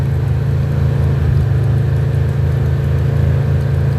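Polaris RZR side-by-side driving along an ocean beach, a loud, steady, low engine drone that holds unbroken from start to finish with no voices.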